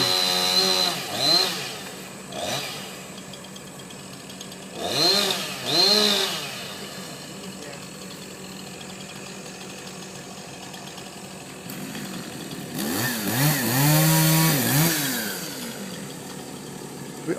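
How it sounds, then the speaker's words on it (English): A chainsaw cuts a tree overhanging a pedestrian walkway in Miyajima, Japan, with several loud revving bursts between long stretches of steady idling. "the man with the chainsaw could cut"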